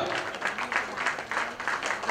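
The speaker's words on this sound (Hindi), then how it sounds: "उनके लिए जोर से तालियां" A crowd claps at a comedy event for a guest introduced on stage, giving brief applause with a loose pulsing rhythm of bursts, moderately loud, with no voices over it.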